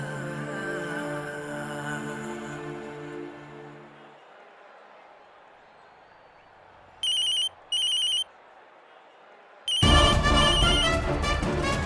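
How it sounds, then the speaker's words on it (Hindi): A telephone rings in two short electronic bursts after a fade of music, then loud music resumes. "समीर जी फोन उठा नहीं रहे हैं"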